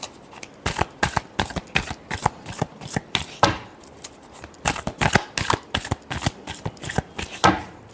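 Tarot cards being shuffled by hand in rapid, rhythmic riffling bursts of sharp crisp flicks that repeat steadily for several seconds, close and clear with no talking.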